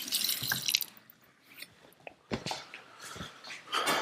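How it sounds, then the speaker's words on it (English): Hands being washed under a running tap at a kitchen sink, with splashing water bursts, brief drips and a pause before the flow picks up again, close and fairly loud. "Wash my hands."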